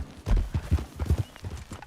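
Horse hooves clip-clop in a quick, steady rhythm in the video game Red Dead Redemption 2, a brief run of hoofbeats with faint background sound and no talking.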